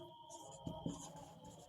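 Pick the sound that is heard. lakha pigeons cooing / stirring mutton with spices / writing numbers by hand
writing numbers by hand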